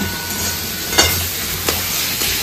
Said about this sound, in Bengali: এখন ভালো করে মশলাটা মা কষিয়ে নিচ্ছে।